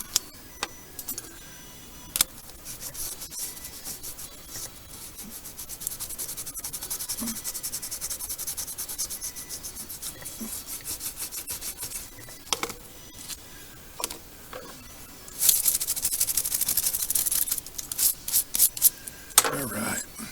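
Scrubbing metal with a Bright Boy abrasive block, giving quiet, gritty rubbing strokes in uneven bursts with scattered small metallic clicks, close up, louder near the end.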